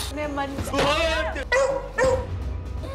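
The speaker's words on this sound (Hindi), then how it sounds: "कुत्ते को क्यों भेजा?" A dog gives a few short barks, yips and whimpering cries in quick bursts, close and fairly loud, mixed with vocal-sounding tones.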